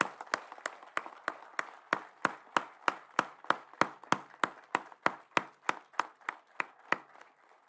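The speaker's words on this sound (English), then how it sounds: "So I'll request all of you to join me in applauding each other." Applause at an academic conference on open and distance learning: about twenty crisp, evenly spaced claps in a steady rhythm, moderately faint and with no talk over them.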